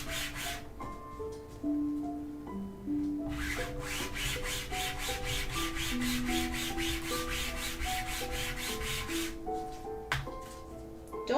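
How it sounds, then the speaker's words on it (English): Hand sanding of a Magik cosplay piece from Marvel Rivals: steady rhythmic back-and-forth rasping strokes, close and fairly loud, running for about six seconds over quiet background music. "we'd be making our pieces and we have to sand it like this."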